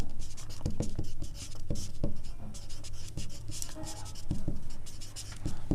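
Pen or chalk scratches across a writing surface in quick, uneven strokes while a math problem is worked out, close and fairly quiet, with faint voice traces in the background.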